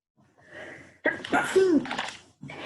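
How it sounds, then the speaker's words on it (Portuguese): A short, strained sneeze, half held back, bursts out after a quiet breathy lead-in, followed by a brief muffled breath. "Fiz tentar segurar o espirro, saiu um espirro muito esquisito ainda."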